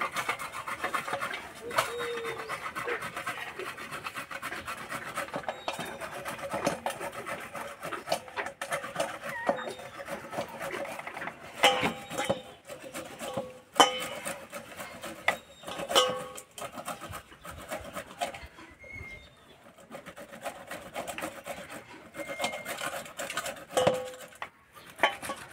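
Cooled boiled jackfruit rubbed across the large holes of a grater, making repeated rasping scrapes in an uneven rhythm, close and moderately loud, with small clinks in between.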